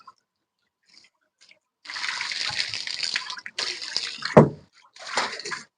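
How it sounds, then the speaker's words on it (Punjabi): Water gushes from a tap during cleaning of a chicks' coop in a few bursts, starting and stopping, with a brief clatter partway through; fairly close and steady while flowing. "ਓਏ ਟੂਟੀ ਬੰਦ ਕਰ"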